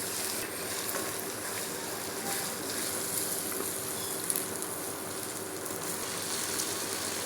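Garlic and ginger paste frying in a pan gives a steady, even sizzle that holds at moderate loudness without a break.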